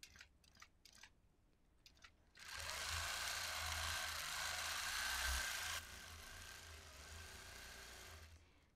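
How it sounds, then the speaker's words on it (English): A quilting machine stitching a freehand design into a quilt gives a steady, loud, fast mechanical whir and hum. It begins after a few soft handling taps and runs continuously to the end, easing slightly partway through. "I am also stitching it quite a bit smaller"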